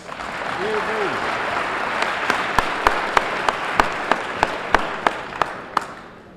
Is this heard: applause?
yes